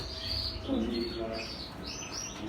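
Small cage birds, including mutation goldfinches, Parisian canaries and greenfinches, chirping and tweeting nearby, scattered high calls over a soft background murmur.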